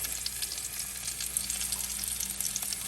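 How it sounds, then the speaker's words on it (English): Steady, crackling sizzle of beef ribs cooking in a Tupperware MicroPro microwave grill, a dense hiss with scattered pops throughout, close and continuous with no voices. "Oh, it is sizzling something fierce."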